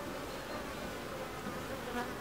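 A hive of honeybees hums steadily at close range, a dense, even buzzing swarm with no voices, recorded outdoors while brood combs are inspected before the honey flow.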